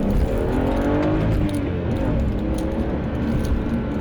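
A modified 2006 BMW E90 325i with its engine droning loudly and steadily under acceleration, heard from inside the car with constant road and engine noise and no talking.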